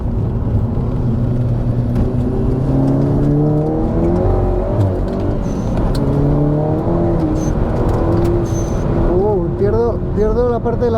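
A VW Golf GTI accelerating on a damp track: its engine note climbs in repeated rising sweeps as it revs, loud and close throughout, with someone talking over it.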